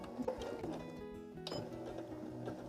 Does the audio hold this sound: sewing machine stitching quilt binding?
yes